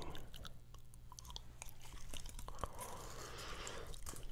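Close, soft wet gum chewing with steady smacks and small clicks in a quiet whisper-style ASMR recording, continuous throughout with no clear talk.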